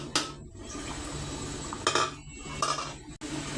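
A pot lid on a wok is set down and handled, making a few sharp metallic clinks and clatters at irregular moments over a soft background hiss.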